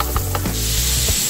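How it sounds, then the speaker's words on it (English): Chicken drippings sizzle and crackle loudly in a hot pan while being poured in for an enchilada filling, with a few clinks from the pan. "I'm gonna pour all those tasty drippings into here to help make our filling."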